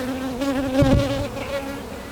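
Honeybees and drones buzzing around an opened beehive during a hive inspection, a steady close droning hum with a brief rustle in the middle and no talking.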